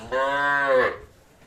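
A dairy cow, one of a group of cows with calves at a cattle market in Dinajpur, gives a single loud, close moo lasting just under a second, with a rich harmonic tone that fades into quiet.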